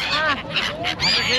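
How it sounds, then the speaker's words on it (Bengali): Siberian migratory birds, wintering at Triveni Sangam in Prayagraj, honk and quack in a noisy overlapping flock close by while being fed, with people talking in the background. "এখানে সুদূর সাইবেরিয়া থেকে কিন্তু শীতকালে পাখি আসে, সেই পাখিকে খাওয়াতে পারেন।"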